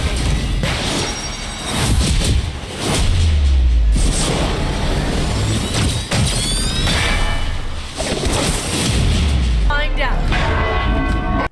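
Bells clang and toll during a fight in a bell tower in a video game, mixed with heavy crashes, booms and whooshing impacts, loud and chaotic with ringing tones layered over the hits.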